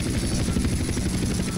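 Hunter attack helicopter in GTA San Andreas flying steadily, a loud continuous rotor thrum with rapid low chopping and a high whine, constant and close throughout.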